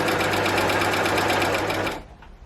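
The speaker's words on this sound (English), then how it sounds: "So if we get this bit of fabric, I'll show you what that narrow 3-thread stitch looks like." Babylock Acclaim overlocker stitching a narrow 3-thread seam on fabric, a loud, steady mechanical whir with rapid rhythmic pulsing that runs for about two seconds, then cuts off to quiet.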